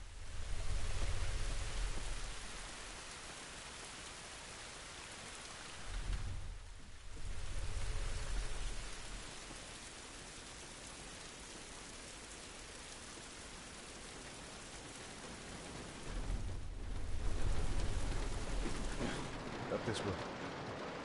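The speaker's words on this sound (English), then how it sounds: "It's raining" Steady rain in the video game The Last of Us, a continuous broadband hiss with deeper rumbling swells at intervals, with occasional talk over it.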